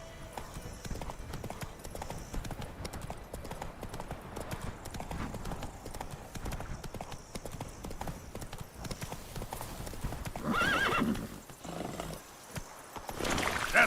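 Roach, a horse in The Witcher Wild Hunt, gallops with rapid, close hoofbeats throughout, and a brief neigh and louder bursts come near the end.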